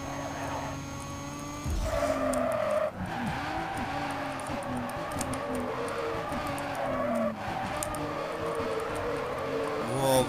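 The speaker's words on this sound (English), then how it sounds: "This is awesome drifting." A modded Nissan Silvia in Need for Speed Carbon drifts with a loud, sustained engine whine, broken by repeated long tire skids and squeals that rise and fall as the car slides through corners.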